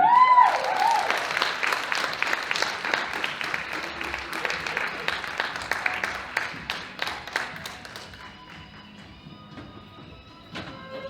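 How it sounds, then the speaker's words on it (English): Audience applause for a speaker being welcomed at a college speech event, dense clapping for about eight seconds that thins out and fades, leaving a few scattered claps at the end. "I appreciate those claps, all three of them."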